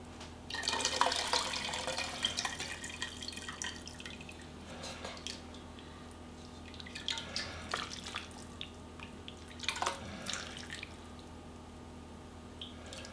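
Galbitang broth is ladled and poured over noodles in several bursts, with splashing and dripping separated by quieter pauses and a faint steady hum underneath.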